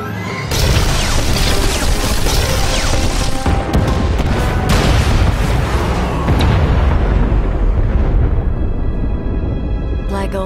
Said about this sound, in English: Blow the junctions.